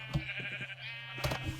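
Sheep bleating in the video game Minecraft, a couple of short bleats over a steady background hum.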